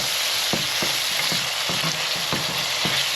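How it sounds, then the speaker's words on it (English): Vegetables sautéing in a pan for fried green plantain: a steady, close hiss of sizzling, with soft utensil scrapes of stirring every half second or so. "I'm going to let these vegetables saute for 2 minutes."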